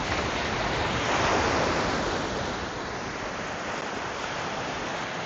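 Waves break and wash along a Canadian lakeshore, a loud, dense sea-like roar that swells at first then settles into a steady rush, with wind noise and no talking.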